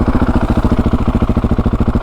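A KTM motorcycle engine idles with its exhaust baffle fitted, a steady, loud, close low-pitched thrum with an even, quick pulsing rhythm and no voices.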